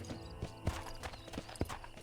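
Horse hooves trotting in the Red Dead Redemption video game: quick, rhythmic clip-clop thuds over a dense, steady in-game ambience, moderately close.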